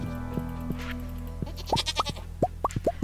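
Goats bleat in a farming video game, a run of short, clear, rising cries that come in quick succession over a steady low background hum.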